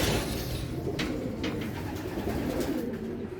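Racing pigeons arriving during a summer race coo close by in a dense, continuous chorus, with soft fluttering and chirps mixed into the steady murmur and no talking.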